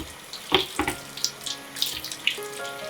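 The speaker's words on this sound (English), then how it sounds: "Make sure you rinse all the Dawn off real good." A kitchen tap runs water over a surface being rinsed of Dawn dish soap, with a steady nearby stream broken by irregular splashes and drips.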